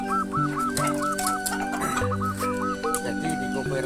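Laying hens cluck close by in a busy, overlapping chorus, with repeated rhythmic calls and a few louder squawks.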